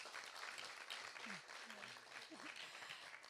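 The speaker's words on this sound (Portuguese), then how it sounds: "Aplausos ao Sr. José Lopes." Audience applause at a community development summit session, a steady broadband patter of clapping filling the whole stretch at moderate level, with no one speaking over it.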